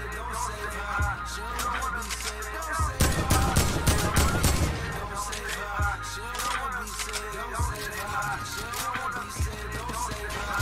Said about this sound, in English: There's another one shooting at me.